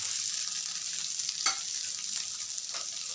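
Boiled mashed potatoes are stirred into a hot pan with turmeric for vada pav filling, giving a continuous soft sizzle and hiss with a few louder scraping strokes.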